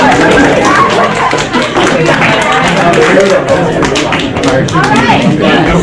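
A group in an improv session claps together, a dense, continuous patter of hands close by with voices mixed in.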